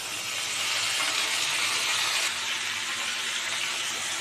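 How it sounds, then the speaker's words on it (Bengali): Cut papaya frying with browned potatoes in spiced oil, stirred in a pan: a loud, dense, continuous sizzle and hiss close up, with soft stirring underneath and no voices. "পেঁপেগুলো আলুর সাথে একটু নেড়ে মিশিয়ে নিয়ে এর মধ্যে পরিমাণ মতো নুন দিয়ে দেবো।"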